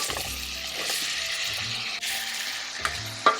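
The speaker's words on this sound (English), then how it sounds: "Add apples when good amount of it is melted." Apples sizzling in a pan of caramel and melted butter, giving a close, continuous frying hiss with a few soft knocks near the end and no talking.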